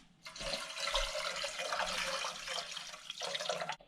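Steady rush of cold tap water pouring into a measure for a few seconds, loud and close, then cutting off abruptly.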